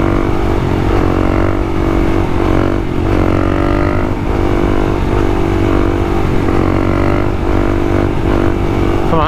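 A motorcycle engine revs continuously through a wheelie, a loud close throttle drone that rises and falls in pitch over the whole stretch with no talking.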